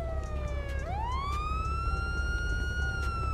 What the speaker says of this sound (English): can I turn off that siren, man?